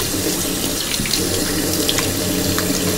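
Tap water runs steadily into a sink during face washing, a continuous close splashing stream with small droplet spatters and no talking.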